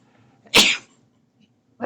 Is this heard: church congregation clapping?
no